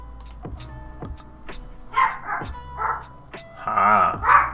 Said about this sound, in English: Ah, that's the dog.